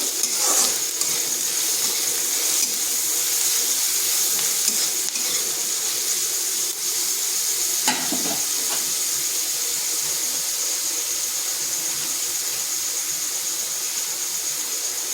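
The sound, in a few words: frying grated garlic and green chillies in a pan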